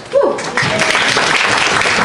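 Audience applause with a cheer breaks out for Michelle at a museum talk on participation, a loud burst after a brief rising whoop, continuing steady and dense.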